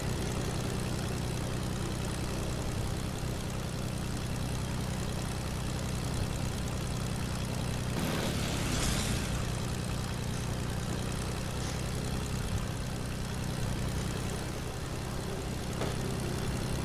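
A steady, droning airplane engine hums while flying in Fortnite, continuous and even throughout with a brief swell of noise midway.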